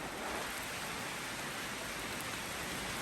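Steady rain falls through a forest canopy near Almora, a dense, even hiss of drops that stays loud and unbroken throughout with no voices.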